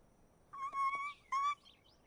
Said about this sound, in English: it looks like your birds are back.